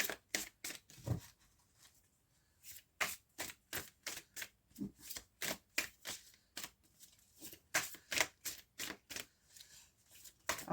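Tarot cards being shuffled by hand, quiet rhythmic riffling and slapping strokes repeated steadily in close, soft bursts.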